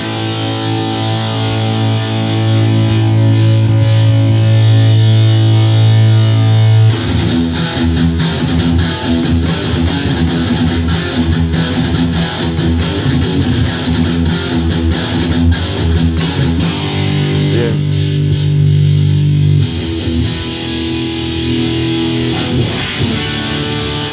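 A Gibson LPX Les Paul electric guitar plays sustained chords and notes through a compressor and EQ, heavily processed, loud and continuous, with the tone shifting partway through.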